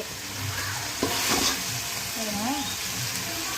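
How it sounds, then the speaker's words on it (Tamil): Ginger and mint sauté in a pan for a country chicken biryani, a dense close sizzle broken by a spoon scraping and stirring, with a faint voice or tone drifting underneath. "இஞ்சி போட்டு நல்லா வதங்கிடுச்சு புதினா கூட."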